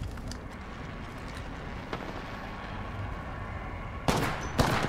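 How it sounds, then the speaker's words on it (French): Bursts of gunfire in the Apex Legends Christmas game mode, faint early on, then two loud, close volleys in the last second. "Ouais, déjà ça tire."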